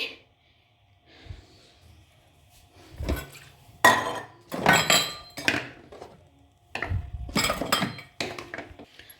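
Water bottles are cleaned at a kitchen sink, with scattered clinks, knocks and rattles of bottles and dishes coming in bursts between quiet pauses, fairly close.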